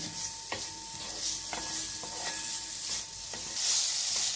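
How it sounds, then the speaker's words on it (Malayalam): Bell pepper sautés in a pan for dragon chicken, a soft steady sizzle broken by occasional spatula scrapes and knocks, with a brief louder hiss near the end; no one speaks. "ഇപ്പോൾ ഇത് വഴറ്റിയെടുത്തിട്ടുണ്ട്"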